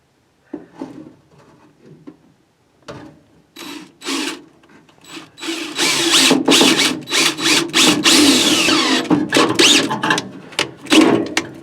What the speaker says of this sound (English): let's see if I can get my drill in there.